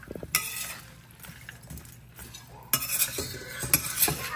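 Dal and rice are stirred in a pot, a spoon scraping and clinking against the metal in uneven strokes, with a faint sizzle underneath and a louder burst of scraping near the end.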